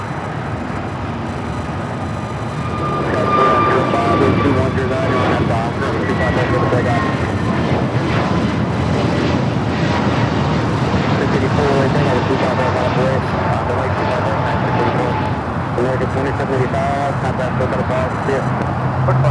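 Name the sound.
American Airlines Airbus A321neo taxiing at LAX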